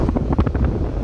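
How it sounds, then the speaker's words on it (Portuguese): Strong wind buffets the microphone on a beach in Sítio do Conde, Bahia, as a steady, dense low rumble with gusty flutter, loud and close, with no talk. "olha o vento que tá"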